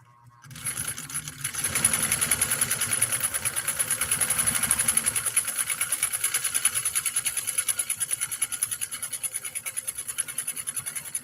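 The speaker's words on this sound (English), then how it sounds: "so now we're sewing at regular speed again" A Nordic Husqvarna Automatic sewing machine stitches a long piece of leather at regular speed, a steady rapid mechanical whir with fast rhythmic needle clatter that starts after a brief quiet moment and runs on continuously, close and loud.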